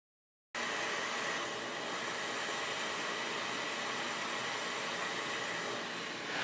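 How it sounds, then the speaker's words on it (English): A hot air rework gun blows steadily while heating solder on a PS4 circuit board, a constant airy rushing hiss that starts abruptly and holds at an even level without speech. "I'm going to put some hot air on the other side and just make sure that it flows through"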